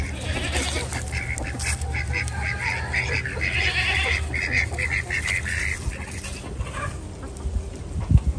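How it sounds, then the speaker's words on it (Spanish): Ducks quacking in a farmyard on a cold morning, a continuous close chorus of quacks and honks over a steady background rumble, with no speech. "Y miren los patos."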